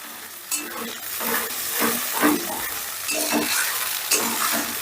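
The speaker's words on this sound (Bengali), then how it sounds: "এবারে গ্যাসের আঁচটা বাড়িয়ে দিয়ে মশলাটা বেশ ভালো করে কষে নেব" Spiced masala paste is stir-fried in a pan over a high gas flame, with loud sizzling and hissing cut by rhythmic scrapes of the spatula, roughly one every second, close up and with no talking.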